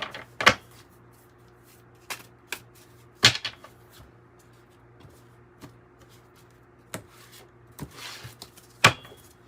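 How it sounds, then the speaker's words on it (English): A tarot card deck is shuffled in short bursts, with sharp riffles and slaps spaced irregularly against a quiet background hum, close and fairly soft. "I'm gonna shuffle."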